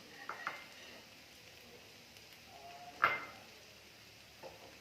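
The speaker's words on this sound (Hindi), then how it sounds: "और अच्छे से मिक्स करेंगे" Potatoes and cluster beans with a little fresh coriander are stirred in a pot, giving soft, faint scrapes and one sharper utensil knock midway over a quiet background.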